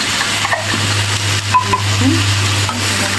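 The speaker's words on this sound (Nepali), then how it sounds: "पिरालुलाई मिडियम आँचमा बिस्तारै पकाउँदै जान्छु। थोरै अदुवा लसुनको पेस्ट पनि हाल्छु।" Taro root frying with ginger garlic paste in a pan over medium heat, stirred steadily, giving a continuous loud sizzle with scraping stir strokes throughout.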